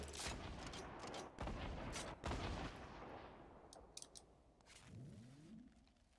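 Scattered gunshots in GTA Online, several loud sharp cracks in the first half-second to two seconds, then fading into quieter isolated shots and a short rising engine-like whine near the end.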